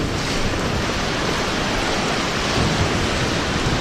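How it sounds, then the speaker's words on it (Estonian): Stormy sea waves at Paldiski roar in a continuous, dense wash of surf noise, loud and close with no let-up and no voices. "Lained."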